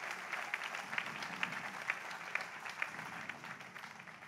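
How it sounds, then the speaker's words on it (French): An audience at a graduation ceremony applauds its professors with a steady wash of clapping, faint and distant, running evenly throughout. "Vous pouvez vraiment les applaudir."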